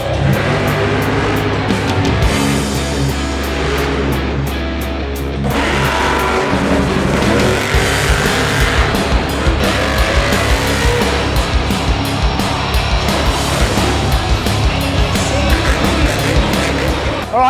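Monster trucks race at a Monster Jam show, with loud, continuous engine roar and revving that surges and swells throughout. The vehicles sound fairly close, with crowd ambience underneath.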